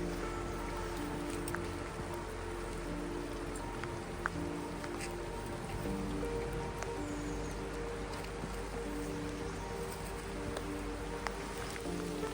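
Steady autumn rain pattering down in a Swiss lakeside village, a dense, even hiss with scattered nearby drips that continues unbroken throughout.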